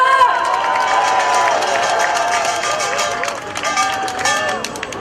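A crowd applauds and cheers steadily for several seconds, a broad wash of clapping with some excited voices mixed in.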